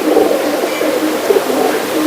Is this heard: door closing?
no